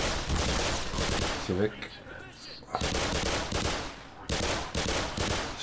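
Rapid bursts of gunfire from the video game Black Mesa come in several loud clusters, broken by a short pause, while someone speaks German over the shooting.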